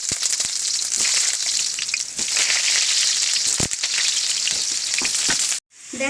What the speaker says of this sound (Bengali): এবার আমি আলুগুলোকে কড়াইতে দিয়ে দেব।